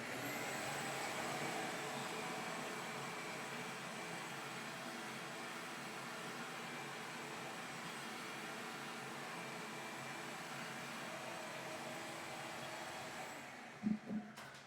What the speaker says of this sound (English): So let me move the head away a little bit and vacuum off that dust.